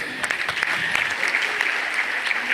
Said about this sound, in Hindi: मैं पुनः एक बार जोरदार तालियों से